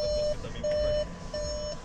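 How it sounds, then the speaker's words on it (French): An Audi S3's warning chime beeps three times, each tone held for about a third of a second with short gaps, steady and close over a low engine hum. "Parce que ce petit bip est très énervant."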